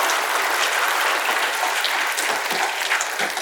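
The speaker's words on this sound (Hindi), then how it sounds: "इसकी नर्वसनेस के लिए मैं चाहता हूँ जोरदार ताली हो जाइए आप।" A theatre festival audience breaks into loud, dense applause that fills the hall, steady and unbroken throughout with no voices over it.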